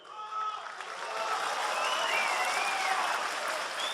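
Applause and cheering from an audience at a League of Legends cosplay contest winter final, a dense, steady wash of many hands clapping with scattered whistles and shouts, building slightly and holding strong throughout.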